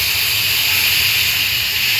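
Curry poured onto a fried egg in a hot kadai makes a loud, steady steaming hiss and sizzle that runs unbroken and close throughout, with no voices.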